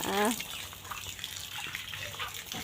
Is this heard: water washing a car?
yes